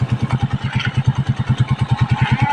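Motorcycles on a large bridge give a close, regular putter of engine pulses, steady and fairly loud, like an engine idling or cruising slowly.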